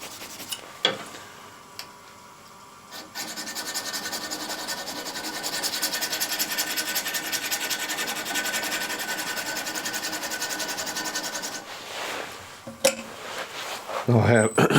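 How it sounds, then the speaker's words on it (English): A woodturning scraper's burr is honed in a long, steady rasping rub that runs for several seconds. A few knocks and handling noises come before and after. "I'm going to now hone the burr on"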